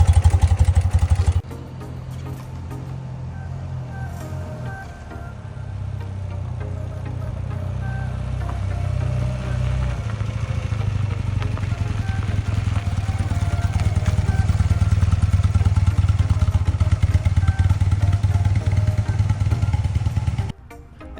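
A BMW R100 motorcycle engine runs steadily, its low throbbing exhaust note holding close and loud for about twenty seconds, swelling slightly in the second half before cutting off at the end.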